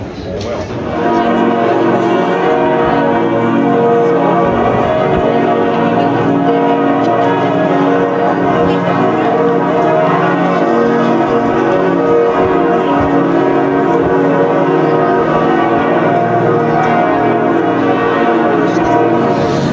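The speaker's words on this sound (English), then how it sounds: "when the bells start going off" Church bells peal continuously at Strasbourg's Christmas market, a dense, loud wash of overlapping tolling tones sustained throughout, with faint crowd murmur beneath.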